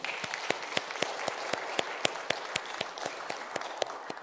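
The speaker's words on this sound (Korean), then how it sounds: "우리 박수 한번 칠까요?" Worshippers at a Korean church Sunday service clap together in a steady, unison rhythmic beat, about sixteen evenly spaced claps over a few seconds, close and moderately loud.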